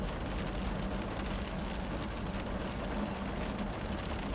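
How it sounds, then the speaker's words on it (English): Rain against a window heard from indoors, a soft, even wash of patter holding steady throughout, faint and uninterrupted. "I love the sound of the rain. Just sitting here with you, the sound of the rain against the window."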